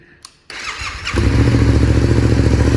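A Hero motorcycle that had been sitting unused, which previously struggled to start, cranks briefly and then catches, settling into a loud, close, steady idle with a rhythmic low engine pulse.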